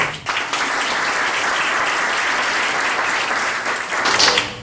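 Applause from the audience at an evening Boys & Girls Club Youth of the Year event, honoring the state judges; a full, steady wash of clapping from a crowd, close and sustained throughout.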